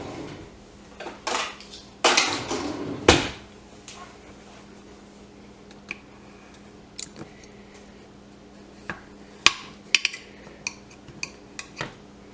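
A little knife is picked out from among metal utensils, with several sharp clinks and rattles close by, scattered light clatters following amid quiet pauses.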